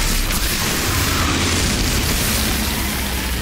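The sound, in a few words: exploding bull enemies blowing up, from video game Outriders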